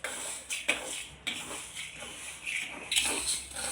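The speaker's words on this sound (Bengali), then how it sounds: "এই যে খিচুড়ির লেগা ডালটারে হালকা বাইচা নিতেছি খিচুড়ি রান্না করার জন্য" Lentils for khichuri, masoor and mung dal, are lightly fried in a pan. Scraping and shuffling strokes and a faint steady sizzle run throughout, with a few sharper clinks of a utensil against the pan.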